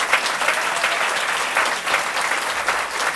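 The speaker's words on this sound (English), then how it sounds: "Let's give them a round of applause." Steady applause from an audience at a New York State governor's public event, dense and continuous for a few seconds with no speech over it.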